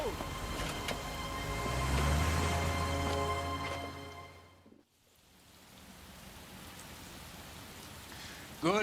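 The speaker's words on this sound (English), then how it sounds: "imagine being out this time like that in the rain" Steady rain falling in the L.A. Noire video game, a dense hiss that runs for about four seconds over low rumbling tones, then cuts off into a much quieter stretch.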